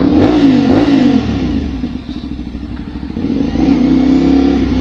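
A CFMoto 450SR motorcycle exhaust rumbles close by, revving up and down repeatedly with a throaty, uneven burble between throttle blips.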